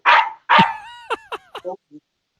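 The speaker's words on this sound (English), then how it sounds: "Is he barking at you?" A dog barks twice loudly up close, then lets out a series of short, higher yips and whimpers that trail off.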